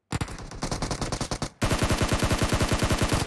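Loud automatic gunfire in PUBG Mobile: a rapid burst of evenly spaced shots, a brief break, then a second, denser and louder stream of rhythmic fire through to the end.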